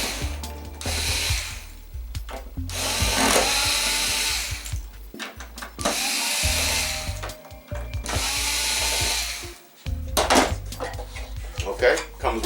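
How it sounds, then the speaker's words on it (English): A power driver whirs in several bursts of a few seconds each, loud and close, as it backs out the four stand screws from a 50-inch Sceptre LED TV, model X505BV, lying face down, with short pauses between runs. "First thing we're going to remove is the stand."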